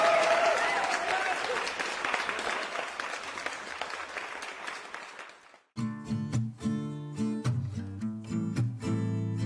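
A studio audience gives loud, sustained applause for a singer on the Spanish music show Jaleo. After about five and a half seconds the clapping cuts off and music begins.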